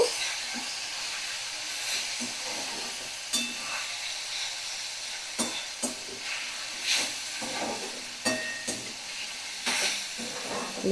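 Semolina (suji) sizzles and fries in a pan while being stirred, a steady hiss broken by repeated scraping clinks of the utensil against the pan at irregular intervals, close by and without speech.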